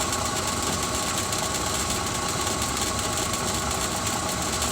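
A mochi-making machine churns sticky cooked rice, giving a steady, loud motorized hum and rattle that runs unbroken from start to finish with no talking.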